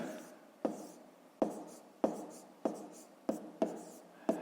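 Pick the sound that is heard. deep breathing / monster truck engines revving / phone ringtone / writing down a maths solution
writing down a maths solution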